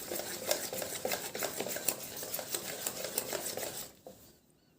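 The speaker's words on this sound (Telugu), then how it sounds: "చూసారా, ఇలా బాగా కలుపుకోవాలండి." Wheat flour dough being mixed by hand in a bowl, with a steady run of soft squelching, slapping strokes close up that stop abruptly near the end, with no talking.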